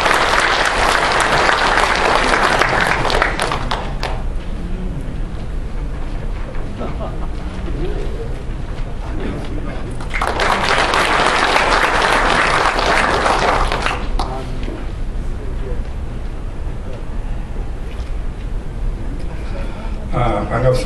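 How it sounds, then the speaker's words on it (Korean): An audience applauds to welcome a speaker at a political party meeting, with two loud bursts of clapping separated by quieter stretches where a voice talks over lighter scattered claps. "박수로 환영해 주십니다."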